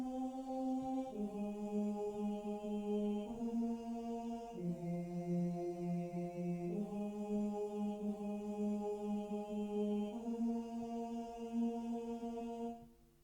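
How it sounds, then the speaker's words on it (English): Sampled choir vocal patch from the Expand library, soft smooth sustained voices shifting through slow chord changes over about thirteen seconds, fairly quiet and steady with nothing else playing. "I did add a choir vox from Expand to help with the vocals"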